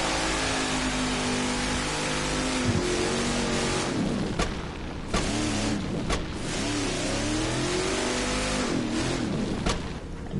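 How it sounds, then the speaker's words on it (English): NASCAR Cup Series race car doing burnouts at Charlotte Motor Speedway during the Coca-Cola 600, a loud engine roaring and revving with rising and falling pitch over a steady crowd-like wash, close and continuous. "doing burnouts on the Coca-Cola 600."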